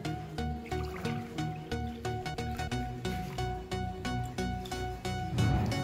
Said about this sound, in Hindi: इसमें दोनों में हमने ले लेना है पानी थोड़ा थोड़ा सा जितना सा आप चाहें